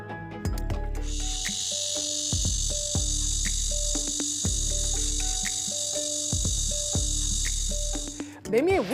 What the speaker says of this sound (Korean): 매미의 울음소리는 사랑의 세레나데라고 볼 수 있는데요.